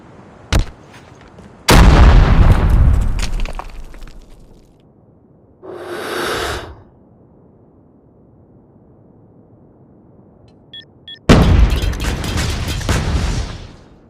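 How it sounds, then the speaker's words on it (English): Call of Duty Mobile search-and-destroy match with grenade blasts: a sharp crack, then a loud booming explosion that rumbles off over a couple of seconds, a softer burst later, and another heavy blast near the end. "Grenade!"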